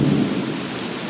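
Thunder rumbles loudly through steady, close rain during a thunderstorm, strongest at the start and settling into a continuous downpour with no voices.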